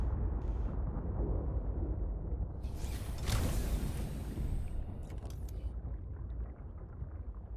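A geothermal vent erupting underwater in the game Subnautica Below Zero, a deep rumbling roar that swells into a bubbling, hissing burst midway before settling back into a low murky drone.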